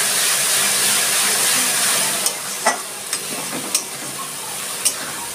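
Onion and garlic paste frying in a pan for chicken kosa, giving a steady broad sizzle throughout with several sharp clinks and scrapes of a spoon stirring near the end.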